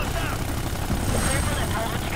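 A helicopter in the video game Ghost Recon Future Soldier drones with a steady, loud rotor wash throughout, while someone talks over it.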